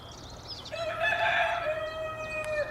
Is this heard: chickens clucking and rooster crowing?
yes